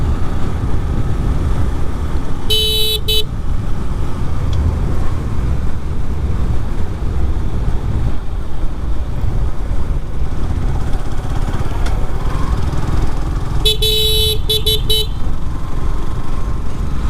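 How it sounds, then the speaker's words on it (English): A car horn honks in traffic: two short, loud bursts of several quick beeps each, far apart over constant road and engine rumble. "I honk a lot."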